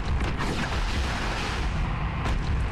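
Ship cannons fire in the naval combat video game Warships Mobile 2, heard as loud, rumbling booms that roll together into a dense, continuous roar.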